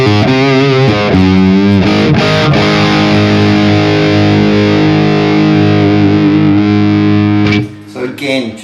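An electric guitar plays through a Bogner 3534 amp with the boost engaged and the gain turned up on the blue channel, giving loud, saturated distorted chords and sustained notes that ring out before fading near the end.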